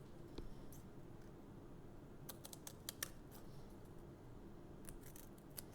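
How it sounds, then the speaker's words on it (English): Scissors cut foam adhesive tape for a cardstock craft, giving a quick cluster of soft snips in the middle and a few more near the end, all quiet and close against a faint background hiss. "you cut a piece of the foam adhesive so that it is slightly narrower than your"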